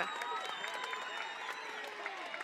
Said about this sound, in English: And don't the crowd go nuts?